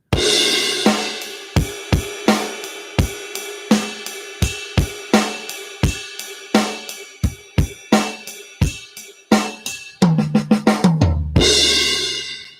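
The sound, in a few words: drum kit playing the first line of Song 7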